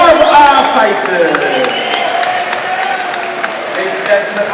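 Crowd applause and cheering for both fighters after a Kingdom 7 combat-sports bout at Boxpark, a dense wash of claps and scattered shouts continuing steadily throughout, with a voice talking over it.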